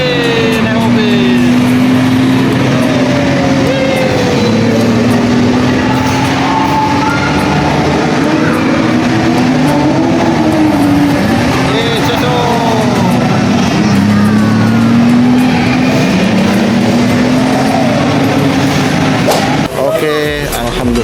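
A car engine drones steadily through a ride around a zoo park in East Java, its loud, continuous hum shifting slowly in pitch as it moves, with voices and park sounds mixed in.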